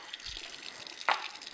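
Tap water runs over the removable parts of a Sana EUJ-606 juicer as they are rinsed, a soft steady trickle with one brief louder splash near the end.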